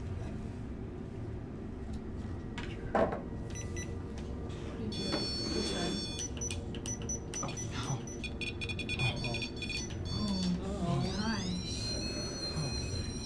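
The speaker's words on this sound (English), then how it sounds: "Courtney, I'm gonna have you turn on the REM pod." REM pod ghost-hunting device sounding off in a house, a series of electronic beeps and warbling tones over a steady room hum, with people talking quietly in the background.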